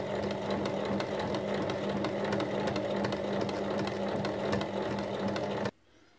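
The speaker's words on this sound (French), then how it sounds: "Et on va donc coudre tout autour en tubulaire." A sewing machine stitching all the way around a tubular bolster cover, running fast and steady with a rapid mechanical rhythm, close and loud, then stopping abruptly near the end.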